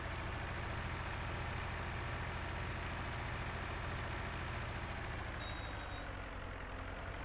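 A steady low engine drone of a tractor running continuously in a video game, with a faint high beep near the end.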